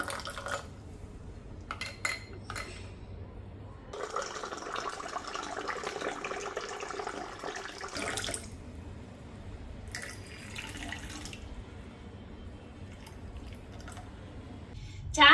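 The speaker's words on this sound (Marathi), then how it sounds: "थंडगार पाणी याच्यामध्ये टाकूया" Ice-cold water pours into a vessel of raw mango panha with a splashing, gurgling stream that lasts several seconds, set between short clinks and handling sounds of a home kitchen.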